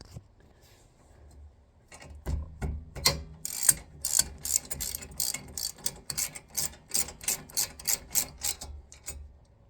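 A ratchet loosening brake caliper bolts on a Toyota GR86 during a rotor and pad change, with quiet handling noises at first and then rapid, close clicking of the pawl in repeated bursts.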